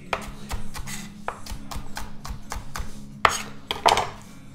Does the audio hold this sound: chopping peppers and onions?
yes